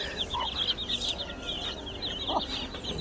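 Bhimavaram breed chickens, a rooster and young chicks, cluck on a farm: a chain of quick, high chirps and clucks runs nearby, with a couple of louder single calls breaking in, over faint background noise and no talking.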